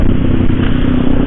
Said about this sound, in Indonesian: Dan itu pakai knalpot bising cuy